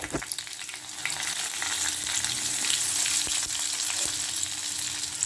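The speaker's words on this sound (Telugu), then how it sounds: "ఈ తాలింపు ఏగేదాకా కొద్దిగా ఫ్రై చేద్దామండి." Spices and small onions fry in hot oil as a tempering, giving a loud, continuous crackling sizzle with occasional stirring clicks, no voices.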